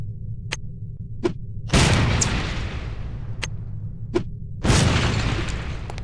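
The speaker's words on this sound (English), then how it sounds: "These relatively inconspicuous-looking lipsticks are actually powerful explosive devices that detonate on impact." Lipstick-shaped explosive detonating in the video game No One Lives Forever: two loud booming blasts with long decaying rumbles, separated by a few short ticking clicks.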